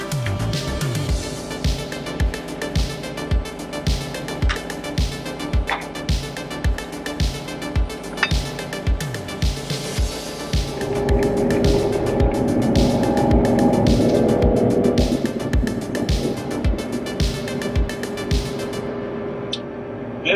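A John Deere 35G compact excavator drives along a building while trenching, its diesel engine droning steadily with rhythmic clanking from the tracks, swelling louder midway and then easing back, with no talk.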